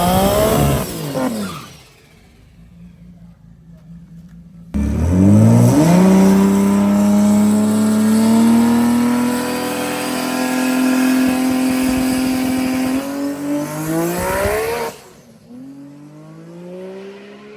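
A Supra race car launches hard down a drag strip at BMP, its engine screaming up through rising harmonics for about ten seconds before cutting off, with a briefer rev at the start and a near, loud idle rumble between.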